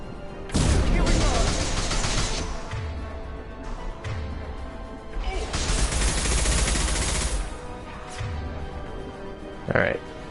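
Heavy gunfire in a Mass Effect 2 Legendary Edition firefight, with long dense bursts of automatic fire, short pauses between them and a sharp single shot near the end. The shots are loud and close.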